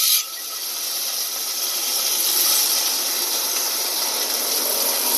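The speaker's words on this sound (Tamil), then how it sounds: "ஒரு பெரிய வெங்காயம், ஒரு பச்சை மிளகா போட்டுட்டு வதக்கிக்கலாம்." Sliced onion and green chilli hitting hot oil in a heated pan, a loud, bright sizzle that flares at once and then holds as a steady, close hiss with no voices.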